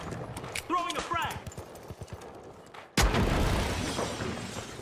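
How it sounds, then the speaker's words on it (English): A frag grenade in the game The Finals goes off in a sudden loud blast that decays into a long rushing rumble, after a few seconds of someone talking. "Throwing a frag."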